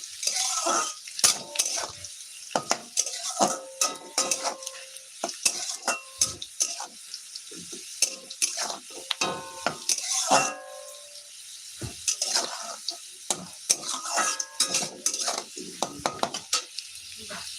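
Egg and potato fry in a pan amid frequent clinks and scrapes of a utensil stirring against the metal, with a quieter sizzle underneath; a voice talks intermittently over the clatter.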